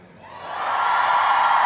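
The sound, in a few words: audience cheering and applause at premiere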